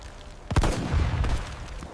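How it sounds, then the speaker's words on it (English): A battlefield explosion: a sharp broadband blast at half a second followed by a rumbling low roar and scattered cracks, loud and close, with no talk. "the deafening explosion ringing in his ears"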